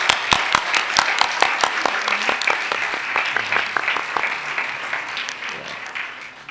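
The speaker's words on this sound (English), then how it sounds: "And a huge round of applause for Anila." Audience applause at a live Bharatanatyam dance performance in Birmingham, a crowd of clapping hands with distinct sharp claps early on, slowly thinning and fading across several seconds.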